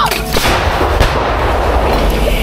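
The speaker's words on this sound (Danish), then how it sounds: "Dobbeltskud! Skud kommer!" Mortar crew firing artillery rounds at charge 5 on a range, a loud, dense blast of gunfire with booming reports that fills the clip, without talk.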